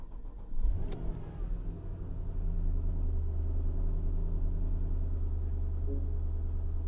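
A car engine cranks briefly and catches, then settles into a steady low idle rumble that continues to the end.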